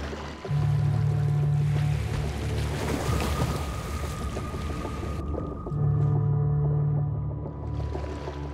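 Orca (killer whale) sounds recorded underwater: drawn-out tonal calls layered over a steady wash of ocean and boat noise, with no talking.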